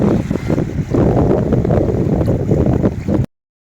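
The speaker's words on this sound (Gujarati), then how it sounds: "પવન તે દિવસે બહુ જ હતો" Strong wind on a beach roars and buffets the microphone in a continuous heavy rumble, with no one speaking.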